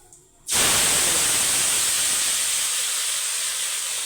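Potato pieces drop into a pan of hot oil with tempered spices and set off a sudden loud, even sizzling hiss that carries on steadily at close range, with no talk.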